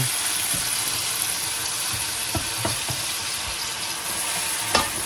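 Kimchi fried rice stirred in a frying pan with kimchi added; a steady, close, fairly loud sizzle runs throughout, broken by a few scraping stirs, with no talking.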